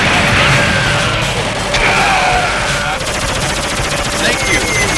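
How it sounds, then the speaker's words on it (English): Heavy machine gun in a video game firing nonstop in a loud, dense rattle with crashing impacts layered in, close and harsh for the whole stretch. "Heavy machine gun!"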